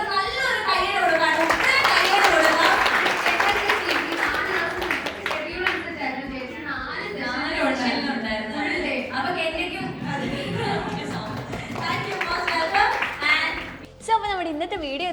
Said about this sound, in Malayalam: ഇവർക്ക് നല്ലൊരു കയ്യടി കൊടുക്കണം.